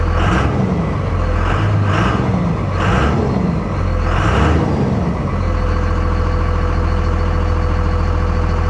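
A 57K-mile Dodge Ram 3500 truck engine gets four quick revs that rise and drop over a heavy low idle, close and loud, then settles into a steady idle.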